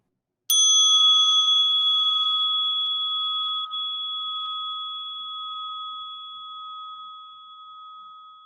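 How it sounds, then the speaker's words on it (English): One gentle strike on a Tibetan bell rings out clear and bright, then its pure tone hangs and fades slowly over several seconds in near silence. "I have this Tibetan bell, which I just easily, gently, lovingly ring"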